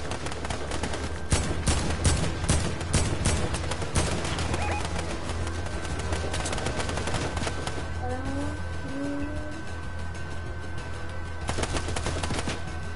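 Bursts of gunfire from oil guards in a bot arena video game, dense and continuous with a steady hum and game ambience underneath, fading into quieter background sounds with brief chirps later on.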